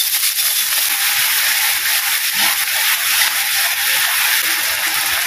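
A small splash of water hits a hot pan for Malaysian coriander chicken, ayam masak ketumbar, giving a loud, continuous steamy hiss that holds at a steady level without speech.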